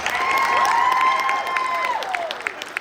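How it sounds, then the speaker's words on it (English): An audience at a family reunion business event applauds and cheers for a few seconds, a dense wash of clapping with voices whooping over it, loud and steady before easing off. "y'all should clap for that"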